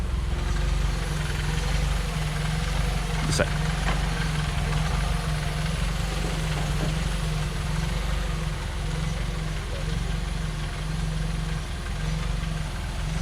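A 1992 Toyota Corolla 1.3 SEG carbureted four-cylinder engine idles steadily with a low, rumbling burble, close by, running continuously; a voice says a couple of words briefly.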